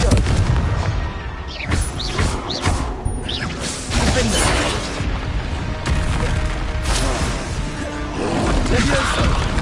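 Confringo blasting spells in Hogwarts Legacy, with several loud booming blasts and crashing impacts over game effects and background music, as voices call out spells.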